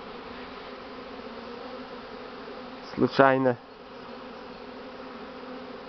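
Honeybees from a swarm settling near an apiary drone in a steady, soft, continuous buzz, with a short louder burst of buzzing partway through as a voice briefly speaks.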